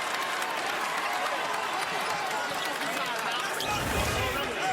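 Basketball arena crowd in a Marquette versus Xavier college game reacts after a foul on a drive to the basket. Broad, sustained roar and applause fill the building, with a commentator talking over it.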